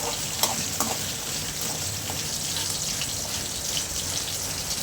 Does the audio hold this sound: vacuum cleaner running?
no